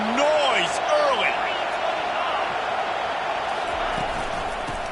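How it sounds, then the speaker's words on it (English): Steady roar of a stadium crowd at a Miami Hurricanes versus Florida State college football game, a dense wash of noise with whistle-like tones early on, and a commentator talking over it. "This crowd bringing the energy and noise early."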